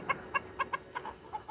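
Backyard chickens cluck in short, evenly spaced bursts, about eight quick clucks close by, with no talking over them.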